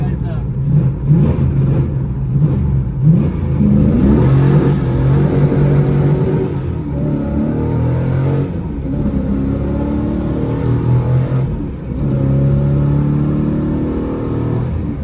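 A 1972 Plymouth Road Runner GTX replica muscle car engine revs and pulls hard, its low roar rising and falling steadily, with a person talking over it.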